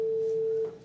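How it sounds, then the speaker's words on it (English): Pure 440 Hz middle A sine tone, a single steady line held for most of the moment before cutting off, clean and alone with no overtones. "The pure middle A sounds like this."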